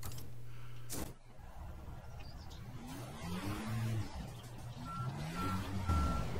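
A truck's reversing alarm in the video game Construction Simulator 22 beeps steadily in a regular rhythm over a low rumbling engine, with a brief whine of machinery partway through.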